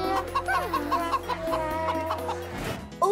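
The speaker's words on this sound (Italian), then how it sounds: "Oh, il signor Gallo ha qualcosa di nuovo per noi." A rooster clucks in a quick run of short, evenly spaced calls with a rising squawk near the end, close and fairly loud over a low hum, with no talking.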